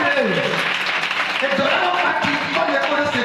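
A church congregation applauding during a service, steady dense clapping that carries through the whole stretch while a preacher's voice and singing rise above it.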